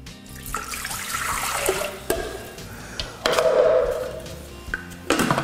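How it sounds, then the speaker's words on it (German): Water poured into the bowl of a Thermomix kitchen machine, a loud close gushing splash that rises and falls in a few surges over several seconds. "In den Kessel 400 Milliliter Wasser."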